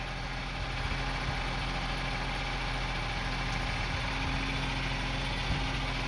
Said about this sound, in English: the engine is running okay, but again, rough idling will start after, see, starting now